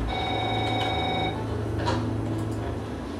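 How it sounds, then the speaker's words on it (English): A telephone rings indoors, a sustained electronic bell tone for about a second, followed by a couple of faint clicks and low room noise. "Charlie, phone."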